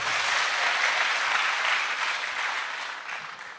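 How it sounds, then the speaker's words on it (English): A crowd at the launch of a Pan-African institute in Kenya claps together in a thick, continuous burst of applause that tapers slightly at the end, with no talking over it. "Give yourselves a clap."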